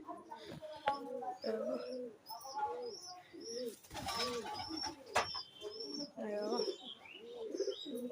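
Young pigeon cooing repeatedly in soft rhythmic phrases, close by, with chirps from other birds and a brief flutter of wings; a person talks over parts of it.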